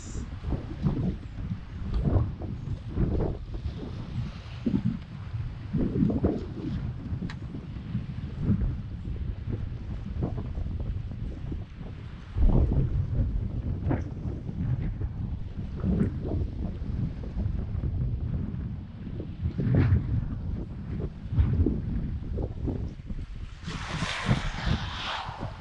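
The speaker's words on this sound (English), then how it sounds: "it is very windy this day" Strong wind buffets a fishing boat at sea while squid fishing, gusty roaring microphone rumble rising and falling for about twenty-five seconds, with faint water and boat noises underneath.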